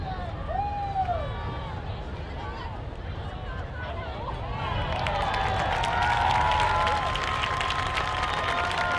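A crowd at a Santa Paula vs Fillmore high school game claps and cheers for both teams at a scholarship presentation, the applause swelling into a loud, dense burst partway through, with a voice talking over it.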